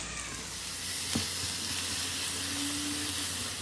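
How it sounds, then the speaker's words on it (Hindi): Onion sizzling with ginger, garlic and chili in a hot pan, a steady soft frying hiss throughout with a faint clink of stirring near the middle. "इतना प्याज भुन रही है"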